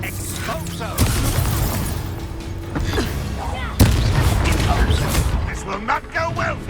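Confringo blasting spell explosions in Hogwarts Legacy: two sharp booming blasts about three seconds apart, the second louder, over a dense bed of game combat noise and music with a voice speaking.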